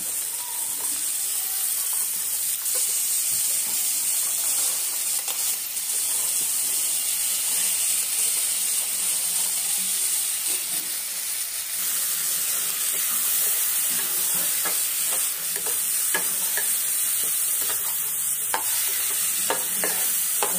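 Green peas fry in hot oil in a pan with a steady, loud sizzle and hiss throughout, broken by frequent scraping strokes of a spoon stirring them, more pronounced in the second half.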